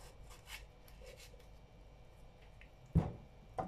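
A knife cuts a melon wedge, making quiet rasping and rubbing strokes, followed by two sharper, louder cuts near the end.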